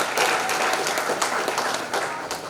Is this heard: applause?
yes